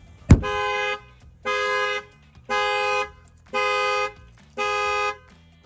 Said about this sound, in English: I'm gonna go ahead and bang on the glass. The alarm is gonna fire off.